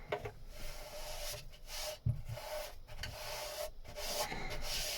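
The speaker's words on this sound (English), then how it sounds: "run your hand around it, all directions, checking, and you're feeling for any sort of edge" A hand sweeps over a freshly sanded wooden boat locker hatch, making a quiet, continuous close-up rubbing with soft, repeated strokes in several directions.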